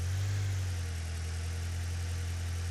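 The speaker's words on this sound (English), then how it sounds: "Looks like the engine it's misfiring." A car engine idles steadily close by, a continuous low hum with broadband mechanical noise; the misfire is not clearly audible as distinct stumbles, and no one speaks.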